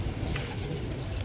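A pigeon in a breeder's loft gives a low, steady coo throughout, soft and close, with faint chirping from other birds behind it.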